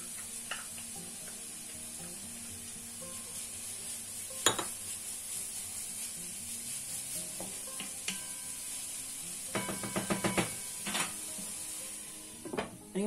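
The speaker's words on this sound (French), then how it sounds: "Et on va laisser nos oignons tranquillement rissoler" Onions and garlic sizzle in a pan while being cooked for stuffed batbout bread, a steady frying hiss running throughout with a few sharp clinks and scrapes of a utensil against the pan.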